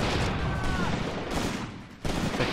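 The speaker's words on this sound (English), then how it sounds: "Taking heavy fire." Battle noise in a WWII tactics video game, a dense, continuous roar of gunfire and distant blasts with a sharper burst near the end, no clear speech.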